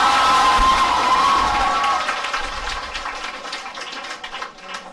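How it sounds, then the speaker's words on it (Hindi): A hall full of students cheers and claps to welcome successful JEE Main 2022 candidates at a coaching campus celebration, loud and close at first, then fading into scattered clapping and shouts. "जोरदार ताली और स्वागत करो बेटे"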